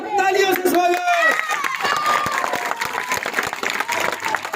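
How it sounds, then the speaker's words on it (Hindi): Loud crowd applause at a BJP election rally in Suratgarh, welcoming candidate Ram Prasad Kasniya. The dense clapping runs continuously under a voice and tonal sounds, then thins toward the end. "एक बार पुनः जोरदार तालियों से स्वागत"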